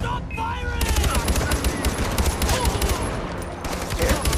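Sustained gunfire from the video game Far Cry 4: rapid, machine-gun-like bursts of shots that rattle on loudly almost without pause.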